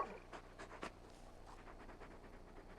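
Torgal, a large dog in the game Final Fantasy XVI, panting in short quick breaths, soft and close, with a few sharper huffs early on and no one talking.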